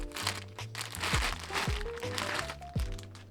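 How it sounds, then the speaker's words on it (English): Plastic bag crinkling and crunching while a saxophone case is unboxed, with several sharp crackles and thunks among steady rustling, close and moderately loud. "It looks like there's this plastic bag here"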